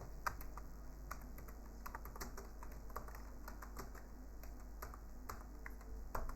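A computer keyboard is typed on in quick irregular bursts of light clicking keystrokes, close but quiet over a faint steady hum, with no talk.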